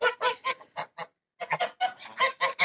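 Farmyard geese honk loudly and close up while being fed, a rapid run of nasal calls that breaks off in a short pause and then resumes in another busy, overlapping burst.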